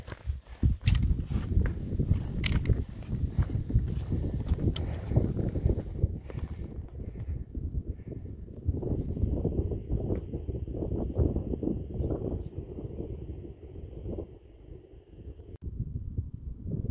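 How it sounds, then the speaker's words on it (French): Strong, steady wind gusts buffet the microphone at a mountain pass during an alpine hike, with footsteps crunching beneath and a faint high tone midway. "il y a beaucoup plus de vent au col"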